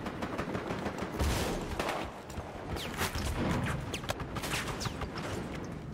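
Battlefield Hardline gunfire on the Dust Bowl map, including AKM fire: scattered rapid shots and bursts, some near and some distant, running through the whole stretch of a busy firefight.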